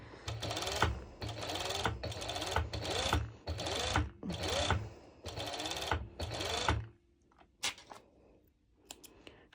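A sewing machine runs a zigzag stitch over elastic on bikini fabric in several quick bursts of rapid mechanical chatter, close by, separated by short pauses, then stops and leaves a few faint handling clicks.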